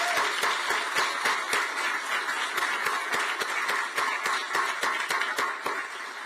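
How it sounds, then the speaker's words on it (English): An audience at a University of Maryland athletic director introductory press conference applauds, with sharp individual claps standing out over a dense wash of clapping that holds steady for several seconds and tapers slightly at the end. "Let's give her a much-deserved round of applause."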